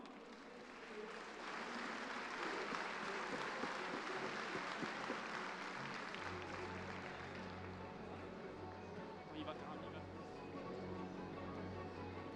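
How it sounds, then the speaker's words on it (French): An audience claps long and steadily for the judge at a cattle show for the 2015 Grande Championne, with dense, loud applause holding throughout and a low hum beneath it. "Je vous demande de l'applaudir très fort"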